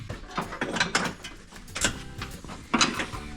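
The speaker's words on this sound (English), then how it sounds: "You can't really get it to ratchet." A ratchet wrench turning a 10 mm bolt during a truck build gives uneven clicking and grinding metal mechanism sounds in short bursts, close up and moderately loud.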